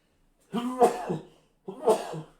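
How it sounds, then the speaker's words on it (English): Two abrupt voiced bursts about a second apart, a close sneeze-like expulsion of air followed by a second shorter one, with silence around them. "Ooh, I had to sneeze."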